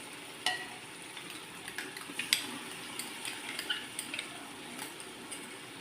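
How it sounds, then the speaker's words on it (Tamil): Chicken biryani masala with yogurt stirred in a pot, steady scraping and wet sloshing with light metallic clinks of a spoon against the pot, close and continuous with a soft sizzle beneath. "இது நல்லா கிளறி விடணும்."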